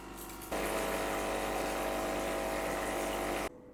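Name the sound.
Electactic commercial espresso machine descaling, hot water flowing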